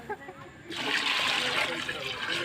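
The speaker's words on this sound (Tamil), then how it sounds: "இப்போ 5 கப் தண்ணி ஊற்ற போகிறோம்." A steady rush of water pours and splashes into a cooking pot holding rice, starting abruptly after a brief quiet moment and continuing strongly.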